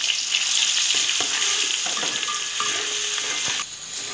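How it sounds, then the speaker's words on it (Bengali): Garlic paste browns in hot oil for a beef bhuna, a loud, dense sizzle running steadily with scattered clinks and stirring scrapes, easing slightly near the end; nobody talks. "তো এখানে রসুন বাটা দিয়ে কি আমি রসুনটারে একটু তেলের মাঝে ব্রাউন কালার করিয়ে নেই"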